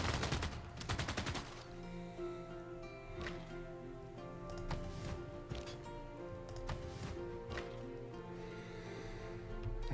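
Game gunfire and shelling in Civilization VI, a dense steady barrage with sharp cracks, heaviest in the first second and then rolling on over a musical score at a fairly low level.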